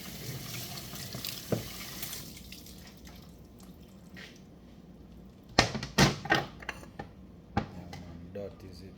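A cutting board is washed under a running kitchen tap, a steady hiss of water broken by sharp knocks and clatters of the board against the sink, close, with a voice briefly present.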